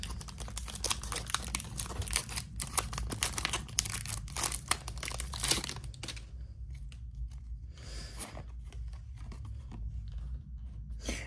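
Pokémon card booster packs of the Fable Nébuleuse set are torn open by hand in close, crackling bursts of foil crinkling and ripping, growing sparser and quieter toward the end.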